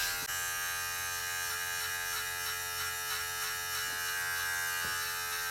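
Electric hair clippers buzz steadily and close up while cutting hair during a home haircut, a constant high whine with faint shifts in tone as the blades move through the hair and no speech.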